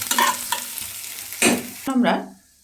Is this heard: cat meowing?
no